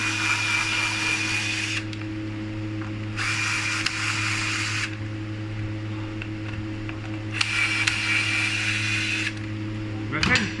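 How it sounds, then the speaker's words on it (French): Power drill backing screws out of a wooden stair stringer, three separate whirring bursts of a few seconds each, close by, over a steady low workshop hum. "Je dévisse 3 vis sur 4."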